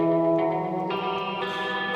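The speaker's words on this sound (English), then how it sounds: "some reverb, some flanger" Chopped, sped-up sampled loop treated with reverb and flanger, a dense sustained harmonic pad with sweeping, shifting upper tones, changing chord twice, loud and alone without speech.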